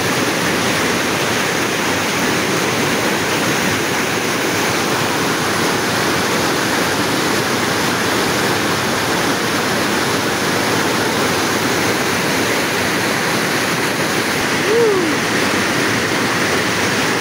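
Curug Tonjong waterfall on the Cibentar river pours with a loud, constant roar of falling water, heard close up and unbroken for the whole stretch.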